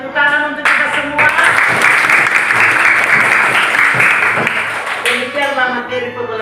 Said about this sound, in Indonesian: Ya, satu tepuk tangan untuk kita semua.